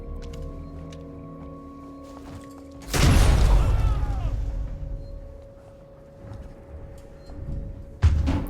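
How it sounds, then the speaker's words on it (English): A pipe bomb going off in a video game, one loud booming blast with a rumbling tail that fades over a few seconds before another thump near the end. "Yeah, I'm about to pipe bomb them."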